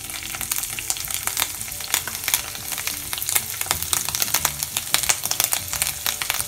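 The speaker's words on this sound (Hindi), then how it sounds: "इसको घी में डाल देंगे छुहाड़ा के साथ ही।" Grated ginger frying in hot ghee with dried dates, a dense continuous sizzle and crackle throughout, with occasional stirring scrapes mixed in.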